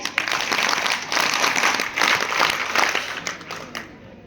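Audience at a women's workshop clapping hands, a thick sustained applause of many pairs of hands, loud and near, thinning out and stopping abruptly near the end.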